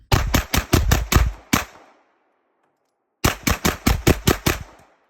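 Zenith ZF-5 firing rounds in two close, loud bursts of rapid shots, about seven then six, separated by a brief silence.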